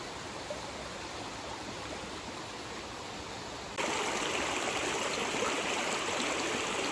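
A forest stream rushes continuously during a rest stop on a hike, a broad steady watery hiss that grows suddenly louder partway through, with no voices.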